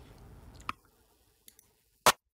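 A barely audible clap sample, frequency-shifted down, sits as a few faint ticks before one short, bright, loud clap hit near the end, with a quiet muddy wash at the start.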